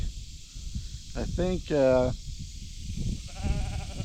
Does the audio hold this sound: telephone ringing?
no